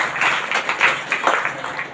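Church congregation clapping hard, a close burst of many hands pattering unevenly for a couple of seconds.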